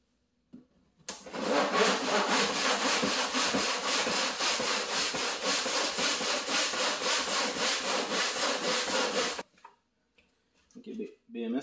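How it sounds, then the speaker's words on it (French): A wood saw cuts steadily through the plastic case of an Enerwatt lithium battery, a loud continuous rasping run of close strokes lasting about eight seconds, then stopping abruptly before faint handling noises. "L'outil de prédilection, ça va être la scie à bois."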